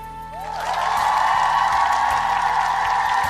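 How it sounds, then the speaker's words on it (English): A crowd cheers, swelling in after a rising tone and then holding as a steady wash of voices and clapping under low background music. "The crowd cheered for us"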